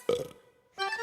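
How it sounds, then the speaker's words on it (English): A cartoon boy gives a short, loud, voiced burp, followed after a brief pause by a second, tonal vocal sound, both close and alone. "but watch out when he burps."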